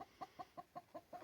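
A young hen in a nesting box clucks softly in a steady, evenly spaced series of about seven short clucks, faint and close.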